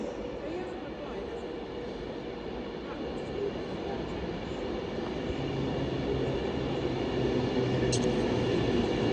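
Avanti West Coast train 390-137 pulls into Stoke-on-Trent station with a steady rail rumble and hiss. The sound builds slightly louder as it nears, with no break.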